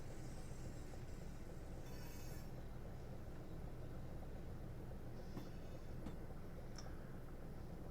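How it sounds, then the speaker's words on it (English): A Southeastern train simulator run slowly enters the Dover Priory platform on the Chatham Main Line. A steady low rumble runs throughout, with faint ticks and a brief hiss, and no speech. "So we're going to go ahead and bring the train far enough in."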